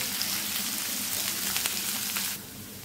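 Chopped onion, green chillies and curry leaves frying in hot oil for sambar, a soft, even sizzle at low level that cuts away abruptly near the end.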